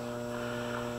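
Steady electrical hum from a residential HVAC unit with a failing dual run capacitor in Fern Creek, Kentucky, a constant buzzing drone that stays level and fairly loud throughout, with no voices.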